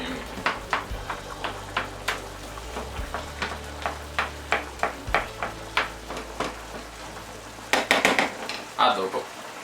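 Sausage and cauliflower sauce sizzles in a pan while a ladle stirs it, a steady frying hiss under a regular series of scraping, clinking strokes against the pan that grow busier toward the end.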